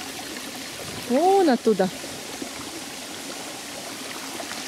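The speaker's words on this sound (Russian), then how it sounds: "И вот сверху течет такой ручеечек." A small stream trickles over the top of a travertine waterfall in a forest, a steady soft wash of running water beneath a brief burst of nearby talk.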